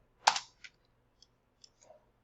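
Computer mouse clicks at a desk during 3D modeling work in Maya 2022: a sharp click followed by a few faint, sparse taps in quiet surroundings.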